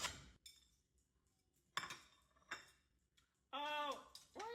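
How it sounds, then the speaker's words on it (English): Dishes being sorted for packing clink and clatter in a few sharp, scattered bursts, faint and indoors, with a voice heard briefly near the end. "those plates, I'm just start going through them and getting ready to pack them up"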